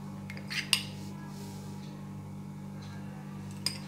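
A spoon stirring honey into thick oats and apple porridge in a pot gives a couple of faint, brief metallic clinks over quiet background hiss.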